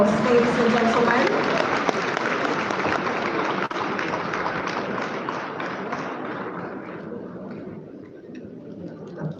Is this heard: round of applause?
yes